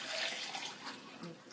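Liquid is poured into a water bottle, a short, soft, continuous splashing stream heard up close, with a faint voice in the background.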